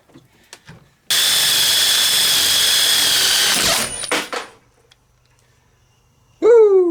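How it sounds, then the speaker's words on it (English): A power drill bores through material in a loud, sustained whine for a few seconds, then the drill bit snaps with a sharp crack and clatter; the motor winds down, and a brief squealing burst follows. "Oh, my drill bit snapped."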